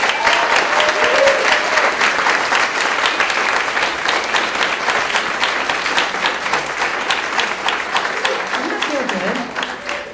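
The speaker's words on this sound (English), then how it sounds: "So please give them all a big round of applause." Big, sustained audience applause at a benefit event in Boulder, a thick continuous roar of many hands clapping at full strength that fades slightly at the end as a voice returns.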